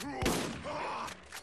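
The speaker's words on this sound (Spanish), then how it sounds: "Síguele disparando, DB. Síguele disparando, güey." Gunfire in the Borderlands video game, a quick burst of shots with sharp, crackling blasts over a short stretch, fairly quiet and with no talk over it.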